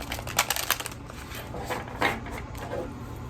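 Tarot cards being shuffled: quick papery riffling bursts near the start, a brief pause, then a couple of softer card-shuffling flutters close by in a quiet room.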